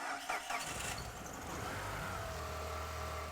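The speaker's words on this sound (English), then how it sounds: "And we'll finally hear this car roar." A PT Cruiser engine cranks briefly and fires up, settling into a low, steady rumble.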